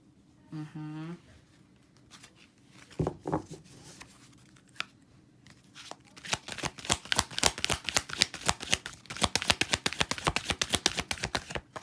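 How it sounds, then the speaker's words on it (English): Tarot cards being shuffled, a rapid run of crisp riffling flicks building over the second half after a few scattered handling sounds, with a voice briefly heard near the start. "So I'm going to pull the cards and then I'm going to read."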